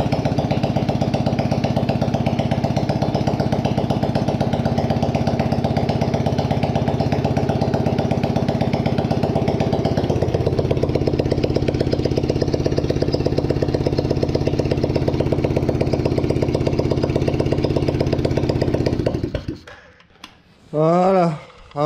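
A cheap off-road buggy engine, bought for 130 euros, running loud and steady with a buzzing, droning tone that shifts pitch midway, then cuts off near the end, followed by brief rising whirs.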